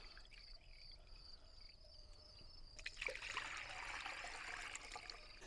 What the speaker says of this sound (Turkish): Bütün tortusu gitsin diye süzüyoruz.